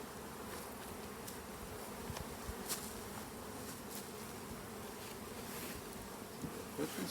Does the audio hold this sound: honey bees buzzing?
yes